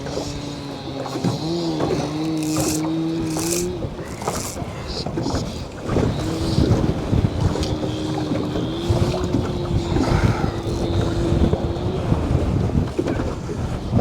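Strong wind buffets a fishing boat held against it by a trolling motor on power 4, a steady roaring rush with low hull and water noise throughout, a faint motor whine in the first few seconds.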